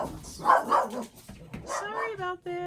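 Pet dogs bark and whine indoors, upset after a big thunderclap, with a few close, agitated yelps and higher whimpers mixed with a person's voice.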